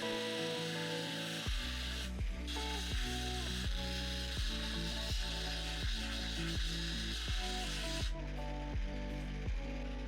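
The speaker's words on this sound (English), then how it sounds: "starting off with the 400 grit, I'm just removing all the scratches that are left over from the 120 grit wheel" An opal being worked on a 400 grit wheel by a lapidary machine, giving a steady continuous grinding hum with regular rhythmic ticks and scraping rubs, close and even throughout, with no talking.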